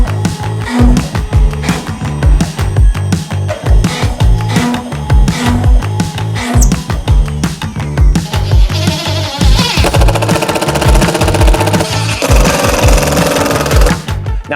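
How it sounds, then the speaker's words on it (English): A CNC router drills holes through epoxy material with a 1/8 inch upcut bit, making loud, rapid, repeated rattling plunges over a continuous spindle whine, with a steadier high-pitched cutting tone in the later seconds. "this first drill tool path is just drilling all the way through the material with an 1/8 inch upcut bit"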